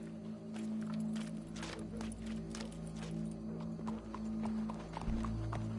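Horse hooves in Red Dead Redemption 2 clip-clop in a steady rhythmic trot, moderately close and fairly quiet, over a low hum of game background sound with faint voices.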